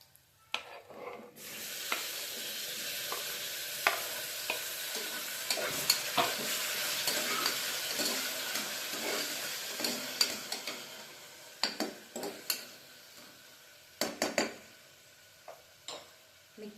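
Onions and tomato fry in a pan for bisibele bath, producing a constant close sizzle with a spoon scraping and clicking against the pan at an irregular pace, becoming more sporadic toward the end.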